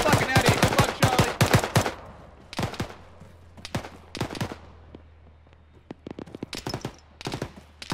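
Rapid bursts of automatic gunfire crack out in a woodland firefight in the ShackTac video game, clusters of sharp shots separated by brief pauses, with a low steady hum underneath.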